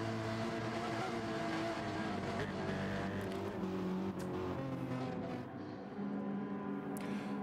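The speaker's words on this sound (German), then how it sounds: "Hören sich alle ein bisschen leidig an, die Motoren." Several racing engines in Gran Turismo 7 at Circuit St. Croix drone and whine together in a steady, layered roar, with pitches shifting as cars jostle, continuous and loud throughout.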